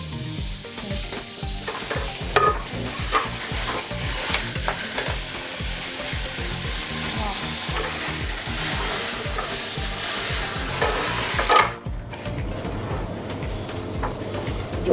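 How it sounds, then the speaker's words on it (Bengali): Sole fillets fry in a small amount of butter for sole meunière, giving a steady, close sizzle that runs throughout and thins out briefly near the end. "বাটারে ফ্রাই করব, অল্প বাটার।"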